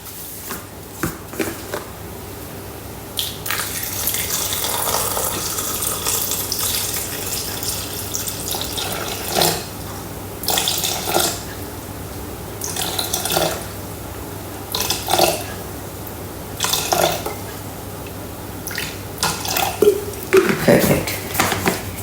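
Water runs and splashes from a tap into a Thermomix bowl as 500 grams are measured for vegetable soup, a steady gushing stream broken by clinks and bumps, up close and mostly alone.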